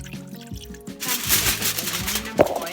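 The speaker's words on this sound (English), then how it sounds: "Pouring 1 cup of water." One cup of water is poured into a Ninja Foodi pot fitted with a steaming rack, a brief rushing splash starting after a second of quiet, with a small knock near the end.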